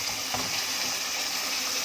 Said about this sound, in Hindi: हमें शोरबे के लिए चाहिए 1 गिलास पानी, वो हम इसमें ऐड कर देते हैं।